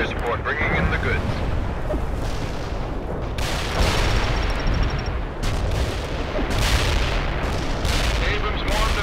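Artillery strikes in the video game World in Conflict: Soviet Assault land as dense, rumbling booms that fill the whole stretch, with sharper cracks and bursts of gunfire layered over a steady battle din, while radio-style voices talk over it.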